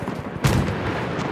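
Machine gun fire in Battlefield 1, a sharp burst starting partway in and rattling on loudly after a few faint earlier shots.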